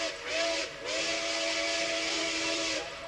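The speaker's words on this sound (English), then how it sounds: "Is that your favorite part, the whistle?" A loud, sustained steam whistle from Pere Marquette 1225 locomotive blowing close by. Its steady tone dips briefly once near the start and then carries on.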